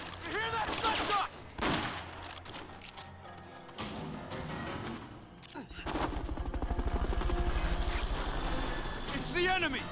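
Bursts of gunfire crackle through a busy soundscape in the video game Metal Gear Solid: Peace Walker, with a helicopter-like rumble and voices talking over the shooting.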